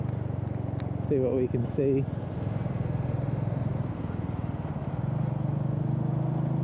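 A Royal Enfield Meteor 350 motorcycle cruises with a steady low engine drone under heavy wind rush, and a rider speaks briefly over it.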